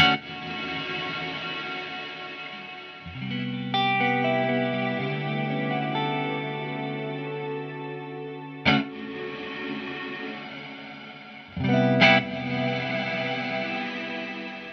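A distorted synth through an Erica Synths and 112dB Nightverb stereo reverb plays sustained chords with a wide, spacious reverb tail, punctuated by a few sharp note attacks.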